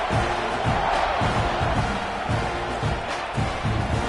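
A packed stadium crowd at an Ohio State football game roars and cheers steadily throughout, a dense wall of voices with rhythmic surges, loud and close, with an announcer talking over it.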